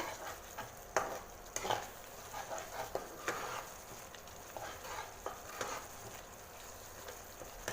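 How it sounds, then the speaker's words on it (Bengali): A spoon stirs turmeric, cumin and Kashmiri chilli paste in a pan of oil for a cauliflower dish, with soft scraping and a faint sizzle punctuated by occasional sharper taps, quiet and close, without speech. "হলুদ, জিরে, কাশ্মীরি লঙ্কার যে পেস্টটা, সেটা আমি এখানে ঢেলে দিলাম। এবার এটাও কিছুক্ষণ নাড়াচাড়া করব।"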